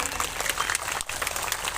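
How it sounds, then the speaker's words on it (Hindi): A crowd at a village gathering for saints claps continuously, a dense, fairly loud patter of many hands with a brief dip partway through. "सभी जोर से ताली बजाएं।"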